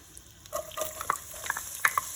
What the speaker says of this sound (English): we're gonna let this saute, and we're gonna let it start sweating and getting translucent